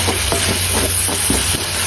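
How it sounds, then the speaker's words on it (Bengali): Ginger garlic paste frying in a clay pot while being stirred, a steady close sizzle with soft scraping strokes of a spoon repeating every half second or so, no voices. "এটা একটু ভাজা ভাজা হলে আমি পানি দিব"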